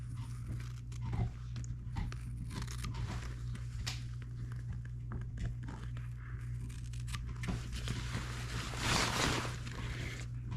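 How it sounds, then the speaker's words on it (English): Soft, irregular crunching and gnawing from a dog chewing on a bone, with a steady low hum underneath. "You can hear my dog in the background chewing on a bone"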